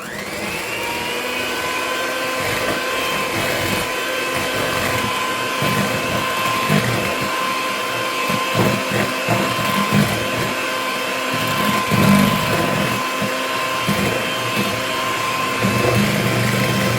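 An electric mixer whirs steadily as eggs are beaten into sponge cake batter for a Guyanese Christmas cake, a loud continuous motor drone with faint bumps of the beaters against the bowl.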